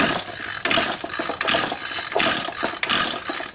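An SRM 225 string trimmer on choke, freshly fitted with a new piston ring, runs as a small two-stroke engine with a steady buzzing drone that surges and dips in rhythmic pulses, loud and close, with no talking.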